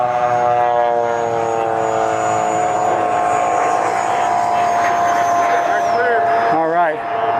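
FMS Rafale 64mm EDF RC jet flying overhead, a loud, steady high-pitched ducted-fan whine that shifts in pitch as it passes, with people talking over it.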